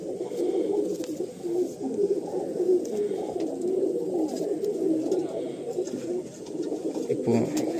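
Fulshira male pigeons coo continuously in a loft in Barasat. Their low, throaty rolling calls overlap in a dense, close chorus, with a voice talking over them.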